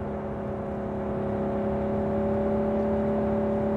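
A car drives in Cyberpunk 2077 gameplay, a steady engine whir with a sustained tonal drone that rises gently in level, continuous and close with no talk.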